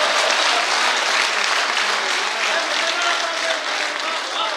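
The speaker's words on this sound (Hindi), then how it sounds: "एक बार जोरदार तालियों से इस्तकबाल किया रहा है" Loud, sustained applause from a large audience at a shayari poetry gathering, welcoming poet Abbas Qamar, a thick wash of clapping that continues without pause.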